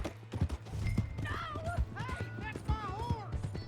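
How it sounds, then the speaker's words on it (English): A horse galloping in the Red Dead Redemption 2 video game, rapid hoof clip-clops thudding close and loud, mixed with whinnies and urgent game-character shouting over the top. "Hey, that's my horse!"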